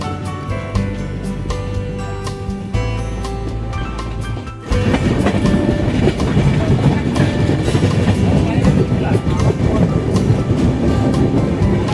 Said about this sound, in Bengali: আমাদের ট্রেন তমলুক স্টেশন ছাড়িয়ে এগিয়ে চলেছে